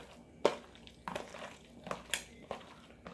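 Beef being mixed by hand with an egg white marinade for a stir-fry, giving a handful of soft, wet squelches and light bowl taps spaced about half a second apart, fairly quiet and close.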